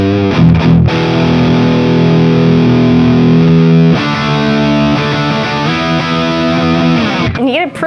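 A loud, sustained distorted electric guitar chord through an amp simulator with boost engaged rings out, then a second heavy chord, thick and saturated with gritty overdrive.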